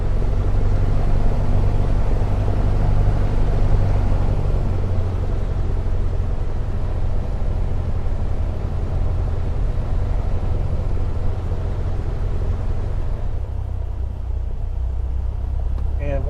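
Airplane taxiing in the video game Microsoft Flight Simulator 2024: a loud, steady low engine drone and rumble that runs throughout without a break and eases slightly near the end.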